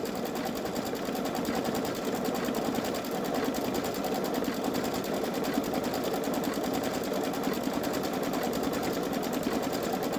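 A Babylock Solaris embroidery machine stitches out a design with a steady, fast, continuous mechanical whir and rapid needle rhythm, close and even throughout with no talking.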